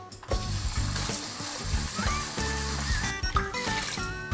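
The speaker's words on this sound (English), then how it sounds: "I would rinse it about 2 to 3 times in cold water and shake off the excess water" Cooked instant ramen noodles are rinsed under cold running tap water in a sink, with steady splashing and gurgling mixed with clattering, ratchety rattles from handling the strainer and pot.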